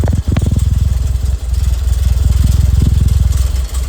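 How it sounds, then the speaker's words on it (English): A car engine idles through a brand-new exhaust with a fast, steady, throbbing pulse. It sits close and fairly loud, with a couple of brief dips. "That's a brand new exhaust."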